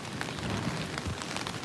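Steady rain falls in narrow alleys of Ginza, Tokyo, during the rainy season, a soft, even hiss of drops on surfaces with scattered faint patters and no voices.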